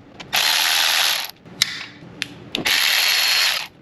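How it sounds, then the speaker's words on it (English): Ratchet wrench loosening small Torx bolts on an Audi A4 engine during spark plug and ignition coil work: two long, loud, fast clicking runs separated by a pause with a few sharp metallic clicks, no talk. "Next, we're just gonna remove these little torques."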